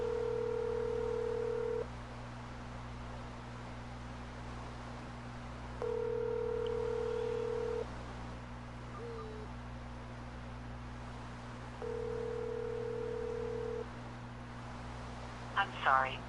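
A telephone call tone plays over a phone, three evenly spaced steady tones of about two seconds each separated by pauses, heard beneath quiet background hum with a brief voice near the end.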